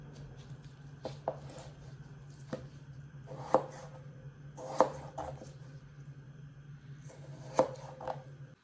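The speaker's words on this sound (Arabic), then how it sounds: "هسه راح نبلش بتقطيع البطاطا وجز" A knife chops potatoes into wedges on a board, with sharp irregular thuds spaced a second or two apart over a low steady hum, close and clear with no speech.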